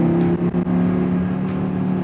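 A 2021 Audi Q3 RS Sportback engine in RS mode hums steadily and loudly from inside the cabin, a constant droning tone with slight swells and no talking.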